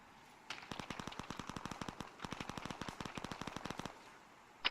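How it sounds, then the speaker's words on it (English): Rapid bursts of machine gun fire in a military squad-training video game, two long automatic volleys of evenly spaced sharp reports, fairly close and loud, with a short pause between them and no talk. "I got negative eyes on that machine gun fire."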